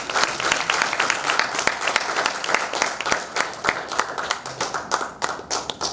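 An audience clapping at a community gathering, many hands with distinct sharp claps audible in the mix, lively and uneven, thinning toward the end.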